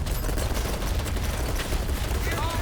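Dense gunfire in BattleBit Remastered, a continuous wash of overlapping distant and mid-range shots forming a steady rumbling fusillade without clear gaps.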